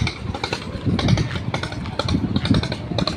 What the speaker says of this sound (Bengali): এই যে মাছ ধরার ট্রলারগুলো